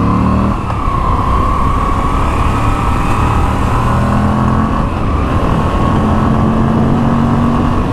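A 2021 Moto Guzzi V85 TT engine drones steadily on a test ride, its loud low rumble holding a constant pitch with a slight rise near the end, plus wind noise and no talk.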